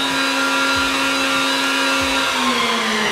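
A CNC router spindle runs at steady speed with a loud, even electric whine and whirring hiss, its pitch holding constant and then dropping slightly near the end.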